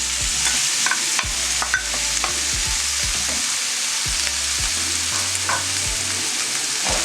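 Onions and tomatoes fry in a pot as a spoon stirs them, a loud steady sizzle with repeated close scraping and knocking strokes against the pot, no speech.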